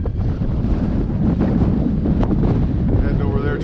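Strong wind buffeting the microphone on a desert mountain trail along the Arizona Trail near Tucson, a steady loud roaring rumble with gusty swells throughout, no voices.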